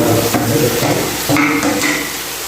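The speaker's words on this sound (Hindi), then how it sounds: "तो अभी जो है हम इसमें डालेंगे ये आलू जो मैंने चॉप कर लिए थे बारीक, 4 से 5 हरी मिर्चें, ये सब इसके अंदर डालेंगे" Chopped potatoes and green chillies tipped into a hot pan, giving a close, loud scrape and rattle of pieces hitting metal, followed by steady frying.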